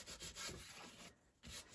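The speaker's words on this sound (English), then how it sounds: "this sanding the edges like this" Paper edges are sanded with short back-and-forth rubbing strokes, a soft, close, steady scratchy rasp with a brief pause near the end.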